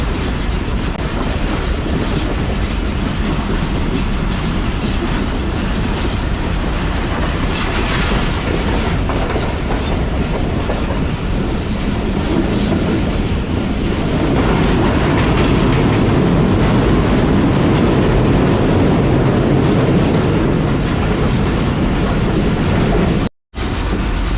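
A Pakistani passenger train, the Business Express, rumbles steadily along the rails near Hyderabad, loud and close, with a continuous roar and rhythmic wheel clatter that cuts out abruptly near the end.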